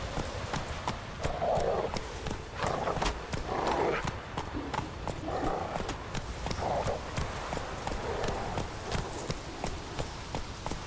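Hooves clip-clop steadily as a horse is ridden in The Witcher 3: Wild Hunt, a regular trotting rhythm under faint voices and ambient game sound.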